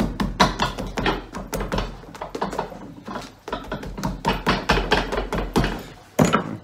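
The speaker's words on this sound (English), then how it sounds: "I'm just going to give it a very slow, delicate tap with a hammer just to flatten it down." A hammer taps repeatedly on a leather riding boot sole to flatten it, a steady series of close, sharp knocks with brief pauses, no talking.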